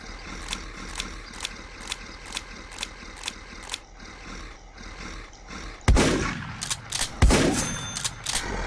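A shotgun fires in the video game Creatures Inc, two loud sharp blasts near the end following a run of regular mechanical clicks and ticks.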